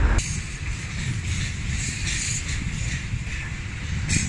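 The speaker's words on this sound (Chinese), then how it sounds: "许许多多的载货或是载人的火车在边境经过" Freight and passenger trains pass at a border crossing with a continuous broad rushing rumble and hiss. Occasional brighter metallic swells sound moderately distant and steady.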